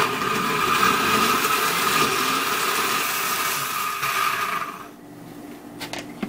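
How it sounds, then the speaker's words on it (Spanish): A blender runs steadily at full speed on cooked chiles with vinegar and salt for enchilada sauce, a loud whirring drone that cuts out near the end, leaving a few faint knocks. "Vamos a licuarlo."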